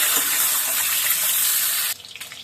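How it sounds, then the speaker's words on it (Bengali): Water pours in a steady, loud hiss into a pan of spices for a home-cooked dish, then cuts off abruptly, leaving faint trickles and splashes. "মশলা দিয়ে একটু জল দিয়ে দিব"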